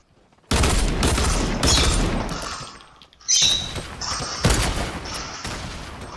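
Loud bursts of rapid gunfire in the video game Fortnite crack and boom in dense volleys, pausing briefly before another sharp barrage with bright ricochet-like pings.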